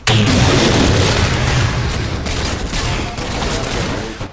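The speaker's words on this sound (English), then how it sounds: "he throws grenades because he can't rely on his weapon" Repeated grenade explosions from Halo 4 multiplayer Slayer gameplay, a dense, continuous barrage of loud booms and blasts with no pauses, dominating the whole stretch.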